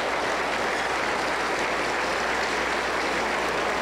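A church congregation applauds in a continuous, even wash of many hands clapping together, sustained and fairly distant, with no voices standing out.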